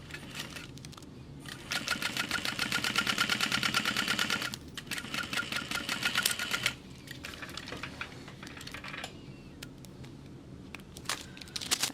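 A sewing machine stitches a stadium bag with a fast, steady mechanical whir in two long bursts, separated by short pauses and quieter handling noises, with no talk.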